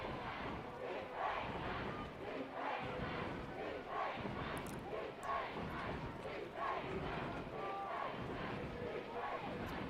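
A high school football crowd at Roseburg versus Sheldon during the third quarter, a steady roar of cheering and shouting from many people, somewhat distant and continuous, with the crowd noise swelling and dipping slightly throughout.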